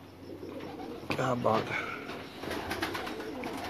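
Pigeons coo softly in a champion racing loft, a few low throaty coos rising in the middle against a quiet background, with someone talking over them briefly.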